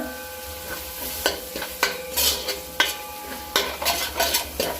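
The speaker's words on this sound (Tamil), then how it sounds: "நல்லா மிக்ஸ் பண்ணிக்கோங்க" A spoon stirs curd into a vegetable curry in a pan, giving repeated scraping and clinking strokes in an irregular rhythm over a soft, steady sizzle.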